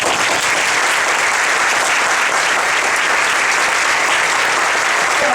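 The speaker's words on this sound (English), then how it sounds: "Give them a big applause." Loud, sustained audience applause at a speech or remarks event, a dense wash of many hands clapping evenly throughout without letting up.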